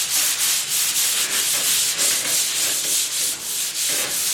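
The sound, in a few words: sanding a surface by hand before painting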